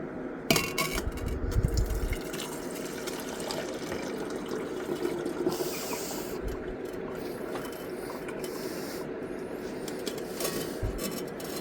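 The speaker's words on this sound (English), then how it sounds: "we're just going to pour the contents from this one in here" Liquid solution is poured from one container into another during gold recovery from incinerated RAM chips, giving a steady trickling, splashing flow that runs for several seconds with faint clinks and no talking.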